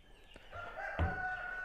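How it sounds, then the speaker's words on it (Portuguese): Rooster crowing in the countryside of Ceará in the afternoon, a single drawn-out cock-a-doodle-doo heard from a moderate distance, fairly faint. "Galo cantando no interior ali."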